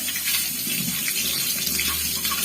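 Water gushes steadily from a tap in a continuous, fairly loud splashing stream, with no voices.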